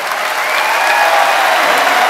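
A crowd applauds for University of Hawaii Rainbow Wahine volleyball head coach Dave Shoji, marking his 1,107th win, with loud sustained clapping that fills the arena throughout.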